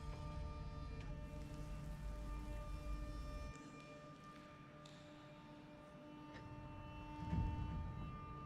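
Steady rain hissing in the video game Rain World, a continuous soft wash of drops that stays fairly quiet throughout, dipping slightly midway and swelling briefly near the end.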